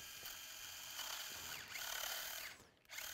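A surgical reamer is driven into bone during an OATS cartilage procedure, producing a faint, steady mechanical whir with light grinding and ratcheting textures and a short dip near the end.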